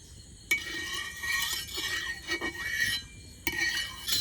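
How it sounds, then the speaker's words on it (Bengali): A spatula stirs and spreads oil across a hot tawa before oats parathas are fried, giving close scraping strokes and light metallic clinks in short bursts with a soft sizzle beneath. "এবার তেলটাকে একটু খুন্তি দিয়ে নেড়ে চেড়ে নেবো"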